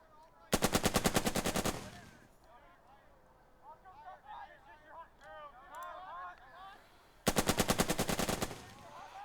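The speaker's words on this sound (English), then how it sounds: "this MG squad, I can just fire at this enemy unit once again" Machine gun squad firing at an enemy unit in the Burden of Command video game: two loud, rapid bursts of automatic fire at the start and end, with faint chirping battlefield ambience between them.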